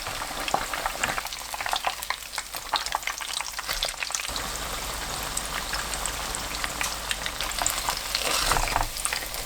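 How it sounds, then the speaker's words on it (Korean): Steady crackling and sizzling of breaded cabbage cutlets deep frying in hot oil over medium-low heat, dense and close, with scattered pops throughout. "식용유가 예열되면 중약불로 줄이고 양배추 가스를 튀겨주세요."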